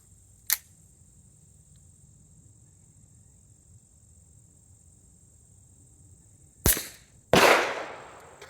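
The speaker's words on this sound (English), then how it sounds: "we're here today sampling the silenced 22 caliber subsonic" Suppressed .22 caliber subsonic rifle shots outdoors: a soft, sharp click early on, then after a long quiet gap two muted cracks in close succession, the last with a brief tail, over faint background hiss.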